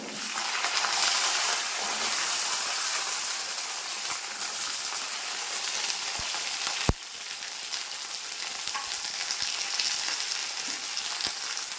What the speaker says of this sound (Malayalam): നമുക്കിത് ഈ എണ്ണയ്ക്കകത്തിട്ട് നമ്മുടെ ഉള്ളി നന്നായിട്ടൊന്ന് വഴറ്റി വേവിച്ചെടുക്കണം